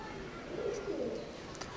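Oman bloodline teddy pigeons coo softly in a low, rolling murmur, with faint chirps and clicks above it, close by and continuous.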